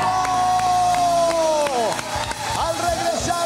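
A television studio audience on a variety talk show claps and cheers for a singer, bright whoops and crowd noise layered over music, with a voice calling out partway through.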